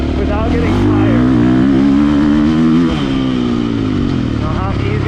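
A KTM 450 SX-F 2024.5 Factory Edition dirt bike revs loud and close, its engine pitch climbing and falling in sweeping surges throughout the ride.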